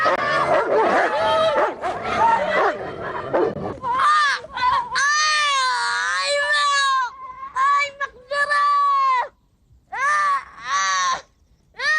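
A dog barks and yips in a 2007 film scene, with several sharp, close barks and whimpering yelps in uneven bursts, some of them long and wavering, following a stretch of talk at the start.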